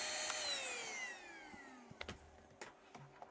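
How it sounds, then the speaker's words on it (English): A vacuum cleaner's motor whines and winds down, its pitch sliding steadily lower before fading out, followed by scattered faint clicks and knocks in the room. "So we're talking with the vacuum cleaner running here."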